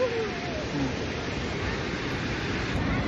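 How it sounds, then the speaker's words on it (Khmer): Tatai waterfall in Koh Kong thundering at the cliff edge, a constant dense roar of cascading water close to the listener, with a faint tonal trace early on and no talking. "សំឡេងស្នូទឹកធ្លាក់នៅនឹងមាត់ជ្រោះតែម្ដងហើយទឹកធ្លាក់បន្សល់សពង"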